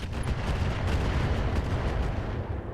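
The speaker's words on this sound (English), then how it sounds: "So it's getting wrecked by turrets right now." Turret fire pounding a Hermes mech in RogueTech, a continuous rumbling barrage of heavy impacts and blasts, loud and dense throughout with no pauses or voices.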